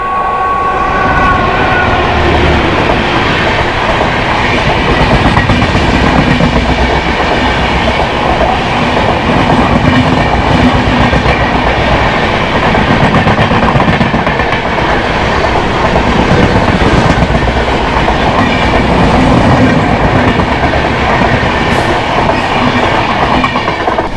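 Goa Express, train number 12779 from Vasco da Gama to Hazrat Nizamuddin, passing a railway crossing in India: a loud, steady rumble of coaches with clickety-clack wheel beats, running continuously for the whole stretch.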